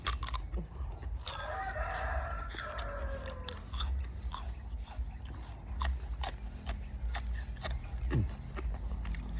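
Free-range chickens cluck and call around a farmyard while a rooster crows partway through, the birds fairly faint against a steady low background hum and scattered clicks.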